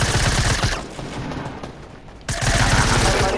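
Suppressed SMG fire in Fortnite, with dense rapid bursts of muffled shots, loud and close, pausing briefly before a second sustained volley.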